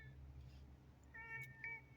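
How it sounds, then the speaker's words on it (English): A friendly outdoor cat meows a couple of times on a calm Sunday, the short mid-pitched calls rising over steady low background rumble near the end. "Oh, look at the kitty."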